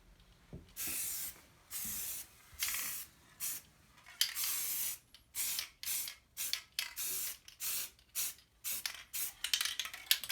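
Short repeated bursts of black spray paint from a rattle can coating a car part on a Duster, a dozen or so hissing sprays of varying length with brief pauses between, close and fairly loud, no talking.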